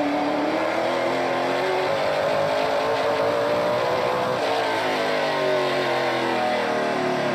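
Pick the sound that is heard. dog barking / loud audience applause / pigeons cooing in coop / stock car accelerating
stock car accelerating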